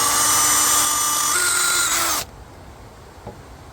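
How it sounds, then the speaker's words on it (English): Power drill boring pilot holes through wooden battens with a wood bit, a loud steady whine running about two seconds, then cutting off abruptly to quiet background with a faint tap. "I'll start by drilling pilot holes directly through these battens"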